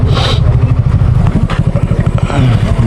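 A motorcycle being maneuvered into a parking spot at a Kaptai Lake viewpoint on Asam Basti Road, with close, loud engine putter, scraping and clattering, plus brief noise bursts.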